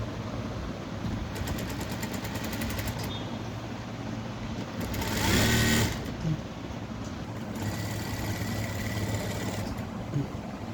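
A sewing machine stitches a blouse neckline in two stretches of rapid, steady needle chatter, with quieter room noise between and no talking.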